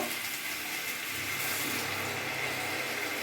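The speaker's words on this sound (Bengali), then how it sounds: "আমার জলটাও এখানে গরম হয়ে গেছে এবার আমি জলটা দিয়ে দেবো" Hot water is poured into chicken curry cooking in a pot, a steady continuous rushing splash heard close and without speech.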